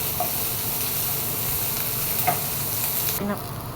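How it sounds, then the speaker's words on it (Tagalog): Onions and curry leaves frying in hot oil for a stingray dry fry, a steady close sizzle throughout with a few faint stirring clicks, and the hiss drops away near the end. "Tapos nilalagay ko na yung sibuyas at saka yung curry leaves. Hintayin lang natin mag-golden brown yung ating sibuyas."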